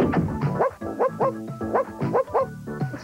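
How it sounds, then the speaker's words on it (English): A Puppy So Real toy puppy from a TV commercial gives a steady run of yipping barks mixed with whimpers, close and fairly loud with no talking over it. "Puppy So Real makes lots of real puppy sounds."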